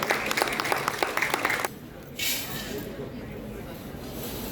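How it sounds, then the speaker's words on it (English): Audience applause for an award recipient at a hospital foundation day event, brisk clapping that cuts off abruptly midway, followed by hissy room noise. "It deserves an appreciation and a clap for him."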